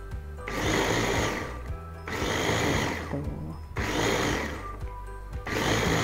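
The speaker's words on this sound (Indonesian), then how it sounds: "kita haluskan cabai yang sudah direbus tadi ditambah dengan air matang, kemudian di blender" A kitchen blender purees boiled chilies with cooled boiled water for soto ayam sambal, whirring loudly in three sustained bursts separated by short pauses.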